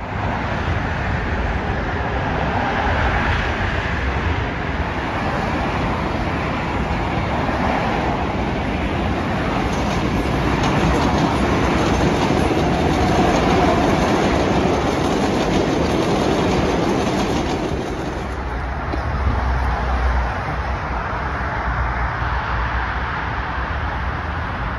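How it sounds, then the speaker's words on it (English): A Chicago L train running out of service toward Racine station: steady loud rumble and rail noise throughout, with a shift in tone near the end as the train slows or changes track. "After the operator clears the train, she runs it out of service to the next station, Racine."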